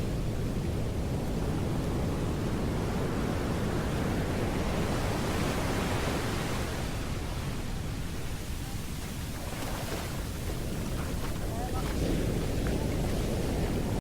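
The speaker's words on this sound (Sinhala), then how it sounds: "මුහුදේ රැල්ල" Sea waves break continuously on Hikkaduwa beach, a loud, dense roar of surf washing in and out with wind rumble against the microphone.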